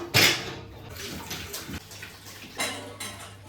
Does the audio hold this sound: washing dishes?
yes